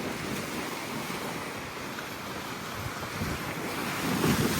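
Sea waves wash steadily onto the shore at Güzelbahçe, İzmir, on an afternoon. The surf is a continuous broadband rush that swells louder near the end, with wind buffeting the microphone and no voices.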